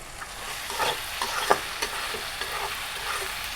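Cumin and chili powder frying with boiled cabbage in a pan, sizzling steadily while a utensil scrapes and stirs in irregular knocks close by.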